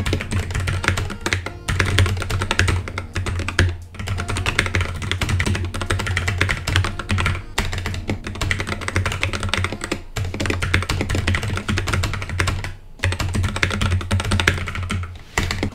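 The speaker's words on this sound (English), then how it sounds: "under my right thumb, I have a space and an enter. So I can type spaces like this, and I can press enter with the one below." Steady, fast typing on a Moonlander mechanical keyboard, with a dense run of clacky keystrokes and a few short pauses, heard close and alone.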